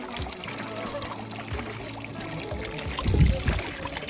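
Water from a free mineral water tap on Geumjeong Mountain in Busan splashes and trickles close by, a steady gurgling pour with a louder splashing surge near the end, set against faint outdoor ambience.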